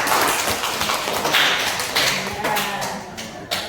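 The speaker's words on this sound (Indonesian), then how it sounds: "Tepuk tangan buat Mbak Triana" Applause for a presenter at a school counselling session, a dense wash of many hands clapping at close range with a few louder single claps standing out over about four seconds.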